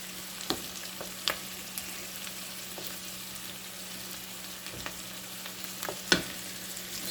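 Food frying in a pan for a low-carb Philly-style dish sizzles steadily while a utensil stirs it, scraping and clicking against the pan at irregular intervals, close and fairly quiet.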